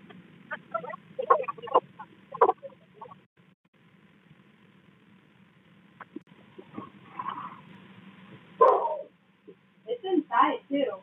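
Dog barking behind a fence at a house: a few scattered barks in short bursts, separated by quiet stretches, with a livelier cluster near the end.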